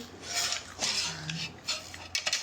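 Plates and dishes being handled, with several close clinks and scrapes of crockery knocking together in uneven bursts.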